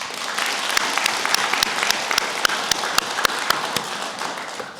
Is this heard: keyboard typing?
no